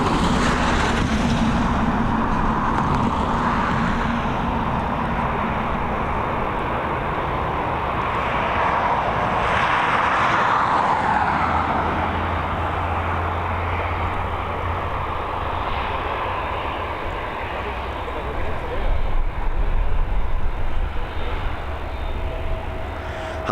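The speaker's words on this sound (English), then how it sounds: "Our next arrival, an A320neo coming in from London Heathrow with the 2019 Aer Lingus livery" An Aer Lingus Airbus A320neo arriving at Dublin Airport from London Heathrow, a steady moderate engine rumble and whine with a broad swell near the middle, no voices over it.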